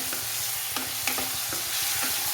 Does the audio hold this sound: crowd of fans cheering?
no